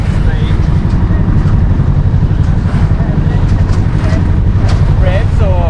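A sailboat's engine revved high gives a loud, continuous drone with heavy wind and water noise; voices are faintly present under the roar.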